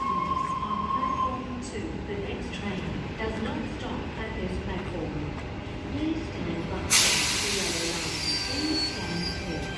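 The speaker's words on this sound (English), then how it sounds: "Now departing platform 4, Cronulla service" A Cronulla service train departing platform 4 at Kogarah station: a steady rolling rumble with a high squeal near the start, then a sudden hissing burst of air near the end, with voices audible under it.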